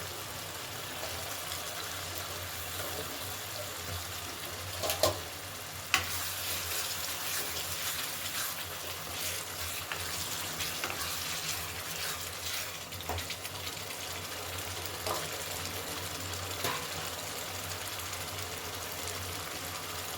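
Potatoes sizzle steadily in hot spiced oil for a Bengali cauliflower and egg curry, a dense close frying hiss with occasional scrapes and knocks from stirring, and no talking.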